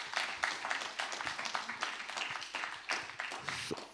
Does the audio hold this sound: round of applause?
yes